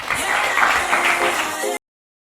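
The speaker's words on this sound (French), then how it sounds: "on va applaudir pendant qu'elle entre, Jessica." A TV studio audience breaks into dense, loud applause as a guest walks onto the set; the clapping runs steadily for under two seconds and then cuts off abruptly.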